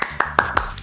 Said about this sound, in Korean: 이렇게 박수를 치는 게 맞지